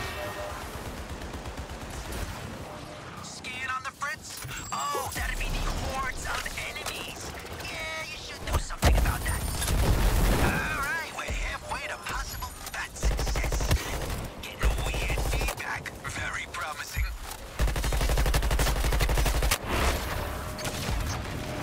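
Gunfire in Suicide Squad: Kill the Justice League comes as dense volleys of shots and rapid bursts. They are punctuated by heavy impacts, with voices talking intermittently over the fighting.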